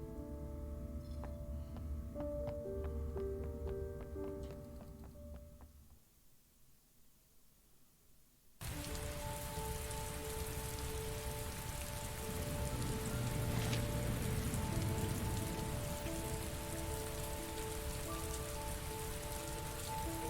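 Heavy rain in the video game Heavy Rain pours steadily with a dense hiss, briefly dropping away before returning at full strength, with faint tonal music underneath at first.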